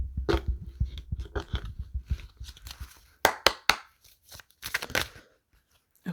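A tarot card deck being shuffled close up, with quick rustling riffles and soft card slaps in irregular bursts, separated by quiet pauses.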